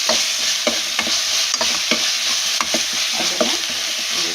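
Turmeric powder frying in a pan and stirred steadily, a continuous close sizzle punctuated by repeated scraping strokes of the spoon, with no voices.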